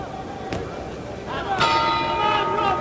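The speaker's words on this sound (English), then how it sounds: "There's the bell." At Madison Square Garden in 1964, a boxing ring bell rings to end round six of a heavyweight bout. It gives a few faint metallic dings under crowd noise and a commentator's voice.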